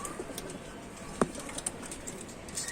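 A single soft coo from a pigeon kept in a domestic loft among fancy breeds, one brief low call standing out against quiet background noise with faint distant chirps.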